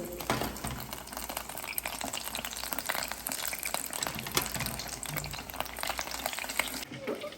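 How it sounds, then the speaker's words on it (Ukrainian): Continuous dense crackling and bubbling of shrimp deep frying in hot oil, close and steady throughout. "Підготовлені креветки закладаю у фритюр та смажу до 5 хвилин."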